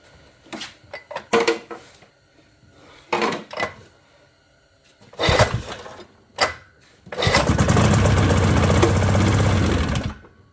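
An old Johnson snowmobile engine sputters through several short bursts and coughs, then catches and runs steadily at a loud, rough idle for about three seconds before cutting off.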